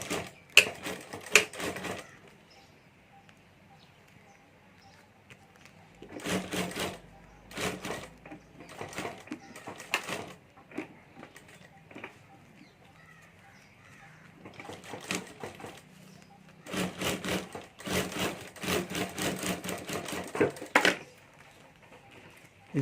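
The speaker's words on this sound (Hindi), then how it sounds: "तो इस तरह से मैं यहाँ पर सिलाई करके पार्ट जोड़ देता हूँ।" A sewing machine stitches handbag parts together in several bursts of rapid, rhythmic needle clatter, separated by quiet pauses while the fabric is repositioned; the sound is close and fairly soft.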